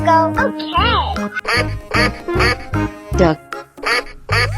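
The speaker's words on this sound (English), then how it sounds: "Duck." Cartoonish duck quacks from a mystery-pool animal game, several bright nasal calls in quick succession over game music and jingles, loud and close.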